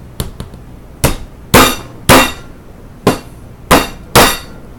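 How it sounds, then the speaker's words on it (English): A hammer strikes small plastic press-fit parts of an Aspire Triton vape tank, seven sharp, close taps spaced irregularly, two quick light ones first and heavier blows after. "tapping on plastic bits with a hammer"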